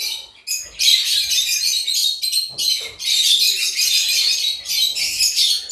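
Several caged African lovebirds chattering and squawking nonstop, piercing high calls overlapping in busy bursts, loud and near with no voices.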